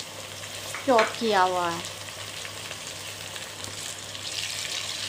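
Chopped garlic and ginger frying with onions for an arbi chicken curry give a steady, close sizzle that runs throughout, with a short stretch of speech near the start.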